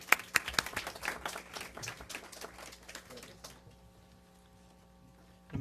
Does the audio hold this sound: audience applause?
yes